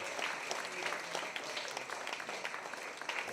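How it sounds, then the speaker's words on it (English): Participants at a storytelling event in London give themselves a round of applause: faint, distant-sounding continuous clapping from a sizable group, with possible voices mixed in underneath. "Give yourselves a huge round of applause for taking part."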